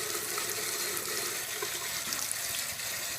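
Tap water runs steadily from a faucet into a sink while a makeup brush is rubbed clean under the stream, a close, continuous splashing wash with no voices.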